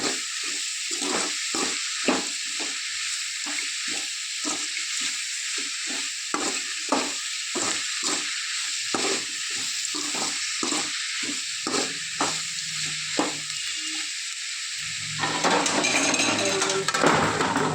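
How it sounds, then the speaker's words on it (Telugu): Chirraku greens fry in a pan with turmeric, a steady sizzle broken by a rapid series of scraping stirs, then a louder burst of frying near the end. "తగినంత పసుపు వేసి బాగా కలపాలి."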